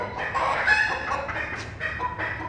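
A chicken clucks close by in a run of agitated, nasal calls with short pauses while it is handled and prepared for a poultry exhibition.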